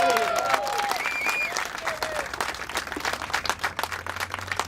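Applause and clapping from a crowd at a Lawrence city council campaign endorsement event, loud at first and then thinning into scattered claps with some voices underneath.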